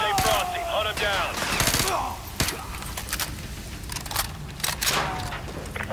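Gunfire from the video game Call of Duty Modern Warfare 2 Remastered, with repeated sharp shots and bursts over several seconds, loud and close, mixed with in-game voices and radio chatter.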